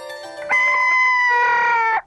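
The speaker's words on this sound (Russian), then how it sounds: "Петух – символ солнца. Это птица, крик которой прогоняет ночь и приближает рассвет." A rooster crows a single long cock-a-doodle-doo, a bright harmonic call that starts abruptly with a sharp rise and holds steady for about a second and a half before cutting off, close and loud against a quiet background.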